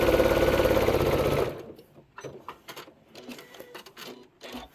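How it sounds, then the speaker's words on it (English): A sewing machine stitches quilt fabric pieces in a steady, loud mechanical run for about a second and a half, then stops. Softer clicks and the rustle of fabric being handled follow. "I'm going to stitch all the way across"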